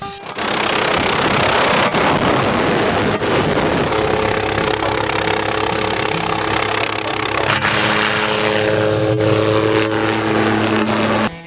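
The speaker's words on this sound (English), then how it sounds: "None of us are actually flying the helicopter" A loud, continuous engine and rotor drone dominates throughout, close by, with a steady tone that shifts in pitch partway through; no talking.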